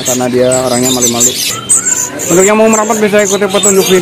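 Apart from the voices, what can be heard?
birds calling at Pramuka bird market kiosk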